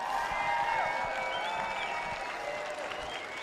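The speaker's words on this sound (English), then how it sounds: "will you give a huge recognition, applause, stand up for them" An audience at a FIRST Tech Challenge robotics championship in Arizona gives sustained applause for volunteers, a steady wash of clapping from a large crowd with faint cheering, heard at moderate distance.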